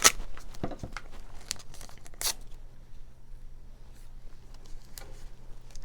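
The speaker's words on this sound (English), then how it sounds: "So just bring some pink tape in." Pink tape torn off for a pop-up panel card, a couple of short, crisp ripping bursts near the start and middle with faint crinkling between them, close and otherwise quiet.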